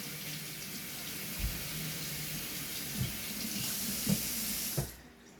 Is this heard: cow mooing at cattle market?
no